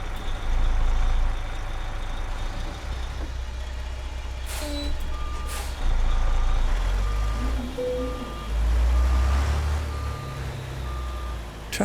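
A long Peterbilt 389 truck with a lowboy trailer backs up in American Truck Simulator, its reversing alarm beeping in a steady rhythm over a low diesel drone, with occasional air brake hisses and engine revs.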